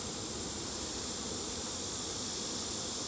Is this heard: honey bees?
yes